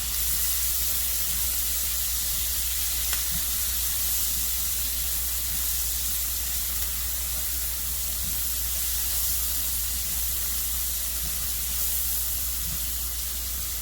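Vegetables sauteing in a pot over a turned-down burner as the base for a chicken stew with peas, giving a steady, even sizzling hiss that runs unbroken throughout with no talking.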